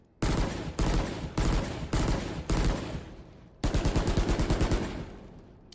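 Rifle fire in the Valorant video game: five loud, evenly spaced single shots, then a rapid burst of about eight rounds, close and sharp with brief ringing tails.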